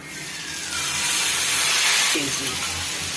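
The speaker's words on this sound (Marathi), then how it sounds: "आता बॅटर या तव्यावर सोडून घेऊया" A steady hiss and sizzle rises as maize (corn) batter hits a hot griddle, growing louder and then holding, close up.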